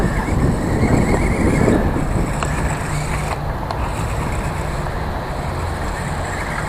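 A small Haiboxing 2138 Fire Runner 4x4 1/24-scale RC truck drives at slow speed, its electric motor and drivetrain whirring steadily up close, with faint clicks and no talking.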